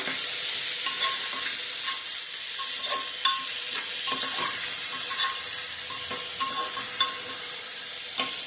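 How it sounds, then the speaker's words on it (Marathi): Sprouted moong beans sautéing in a pan, a continuous bright sizzle punctuated by repeated scraping and clinking stirs of a utensil against the pan, close and loud. "हे मूग परतून घ्यायचे"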